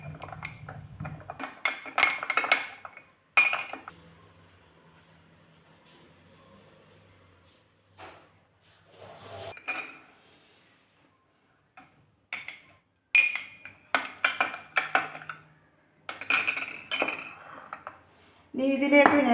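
A spoon clinks against a bowl while sugar is stirred into vegetable pizza dough ingredients, the scraping taps coming in scattered bursts between quiet pauses, close and moderately loud.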